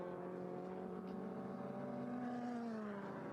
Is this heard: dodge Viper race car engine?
yes